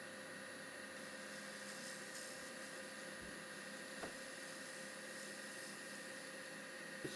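Woodturning lathe spinning a wooden lidded box at high revs while a shear scraper smooths out small ridges, a steady whining motor hum with a faint continuous scraping texture and no talk.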